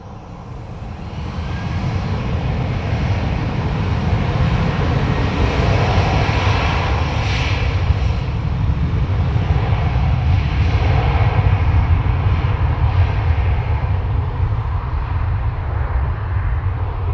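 Ryanair airliner taking off at Dublin Airport, a loud steady engine roar that swells in over the first seconds and holds as a broad rumbling wash with no speech.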